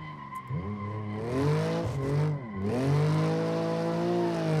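A BMW M3 Competition G80 drifting in a video game, engine revving high with rising and falling pitch as tires squeal in a long continuous skid, loud and close with no talking.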